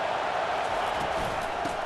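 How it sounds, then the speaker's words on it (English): Loud, steady roar of a college football stadium crowd during a game against Georgia, right after a defensive interception, a dense sustained wash of voices with faint rises throughout. "listen to the roar of this crowd"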